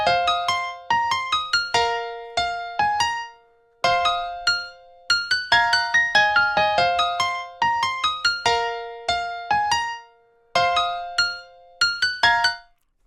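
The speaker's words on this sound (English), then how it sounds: "Then I added a piano to the melody" A piano melody in a distorted FL Studio beat plays bright, high plucked notes in quick runs with pauses between phrases, clear and upfront with no voices.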